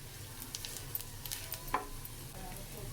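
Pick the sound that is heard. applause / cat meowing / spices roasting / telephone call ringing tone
spices roasting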